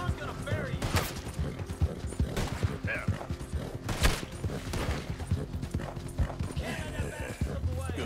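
Horse hooves clip-clop in Red Dead Redemption 2, steady and close, mixed with creaks, occasional sharp bursts and other in-game sounds.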